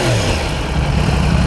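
A loud 2015 Yamaha R1 sport motorcycle engine rumbles close by, a brief falling rev easing into a steady, throaty idle.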